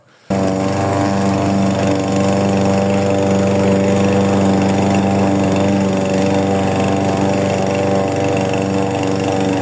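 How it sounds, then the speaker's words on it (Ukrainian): A GRUNHELM petrol lawn mower starts up and runs at a loud, steady, close engine drone cutting grass in autumn, unbroken throughout. "Косарка працює і вдень, і вночі."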